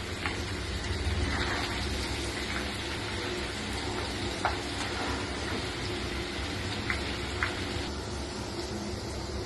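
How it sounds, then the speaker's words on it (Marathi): Curry leaves and prepared spice masala sauté in hot oil in a pan, giving a faint, steady sizzle and crackle with a few small pops and no voices. "त्यानंतर आपण कढीपत्ता, बाकीचा जो मसाला आपण तयार केलेला आहे हा सगळा मसाला त्या तेलामध्ये चांगला आपण परतून घ्यायचा आहे."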